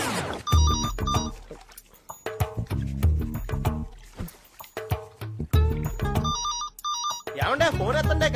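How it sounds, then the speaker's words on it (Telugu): A phone ringtone plays in repeated melodic bursts, close and fairly loud, with gaps and some muffled sounds between the rings. "ఏమంటే ఫోన్ ఎత్తండి, ఖాళీగానే ఉన్నారు కదా."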